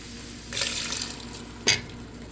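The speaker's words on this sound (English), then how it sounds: "my 2 cans of corn. Liquid and everything." Two cans of corn with their liquid poured into a cooking pot for freezer meals, a close sloshing pour lasting about a second, then a short splashy dump.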